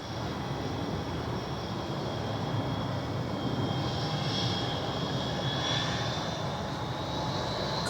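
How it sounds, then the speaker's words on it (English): QantasLink Airbus A320 jet taking off from Perth Airport runway 03, a steady, loud engine roar that holds level throughout with a whining tone rising slightly as it climbs. "Time to go for our QantasLink Airbus A320, the old hand-me-down Jetstar aircraft,"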